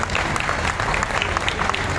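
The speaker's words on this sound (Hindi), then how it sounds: "यदि समझ गए तो अपने अभिवादन में एक बार ताली बजाओ" An audience of the Saddani community in Raipur applauds at a stage event: thick, even clapping from many people, loud and continuous for the whole stretch.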